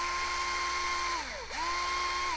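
A power drill bores a tuner hole in a wooden Telecaster guitar headstock, its steady high whine holding, dipping briefly as the motor slows and reverses, then rising back to full speed. The drill sounds close and plays alone.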